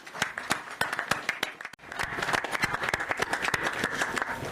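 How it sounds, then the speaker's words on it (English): Scattered clapping breaks out at a ground-breaking ceremony for a hybrid renewable energy and battery project, several pairs of hands clapping unevenly, then thickening into a fuller round of applause. "So let's give them a round of applause."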